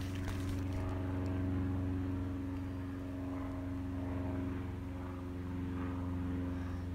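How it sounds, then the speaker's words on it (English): A propeller crop-duster plane flies over an apple orchard, a steady droning engine hum that lingers throughout at moderate distance with little change in loudness. "Here come their crop duster. Their crop plane."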